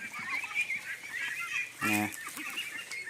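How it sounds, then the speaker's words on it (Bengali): Farm ducks fresh from bathing honk and quack in a steady, busy chorus nearby, with one louder, drawn-out call standing out near the middle. "তো দেখতে পাচ্ছ হাঁসগুলো এখন চান করা হয়ে গেছে।"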